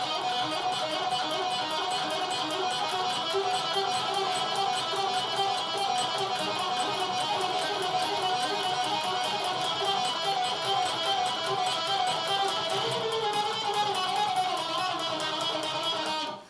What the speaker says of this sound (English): But if you tremolo pick it, get to the point where you're double timing the alternate picking,